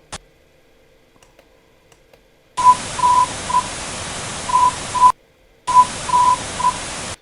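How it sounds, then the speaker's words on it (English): Short electronic tones from a distorted ARG recording, clusters of brief beeps riding on a loud burst of hiss that cuts in and out abruptly, after a near-silent opening. "The ones where it makes a clump of short beeps together with no space is a long beep that was messed up due to distortion"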